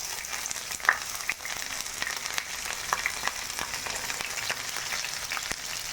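Onions, green chillies and curry leaves frying in a generous amount of oil for Rayalaseema fish pulusu, a steady close sizzle and hiss running throughout with a few small pops and crackles.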